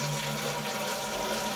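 Hot water runs steadily from a tap as jewelry is rinsed, giving a loud, continuous rushing hiss with no pauses and no voices.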